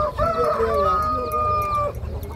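Chickens cluck and a rooster crows loudly and close at a busy outdoor poultry market in Sungurlu, Çorum, one long drawn-out crow over steady background bustle.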